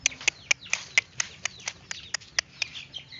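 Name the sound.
birds chirping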